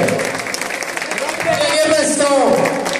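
Audience applause at a parish concert for a band's bassist, steady clapping from a crowd mixed with chatter and shouted voices throughout.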